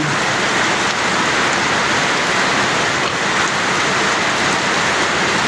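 Heavy habagat monsoon rain pours by the seaside in a dense, steady roar that fills the whole stretch, loud and unbroken, with no voices.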